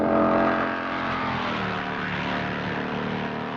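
Racing motorcycles brake hard from high speed into a right-angled corner at Craignabar on a mountain course in 1960, heard as a loud, continuous engine roar that dips slightly as they slow, with no voices.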